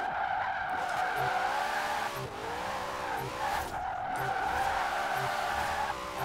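In the Forza Horizon 4 video game, a Formula Drift RTR Mustang slides sideways with tires screeching in long wavering squeals, while the engine rises and falls as it revs very high throughout.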